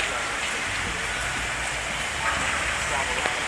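Rain falling outside on a wet day, a dense, steady hiss of drops on surfaces that stays even and fairly loud throughout with no voices.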